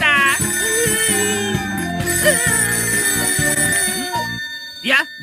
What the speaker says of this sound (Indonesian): Telepon Nobita.